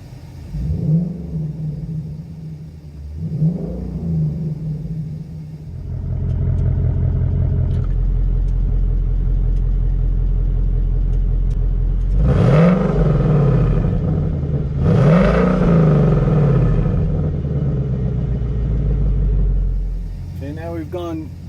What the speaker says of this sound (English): this is normal driving mode,